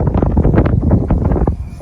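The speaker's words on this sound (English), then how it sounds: "God, I gotta get the camera down out of the wind." Strong wind buffets a camera microphone outdoors in gusty rumbling bursts, loud and close throughout the short clip.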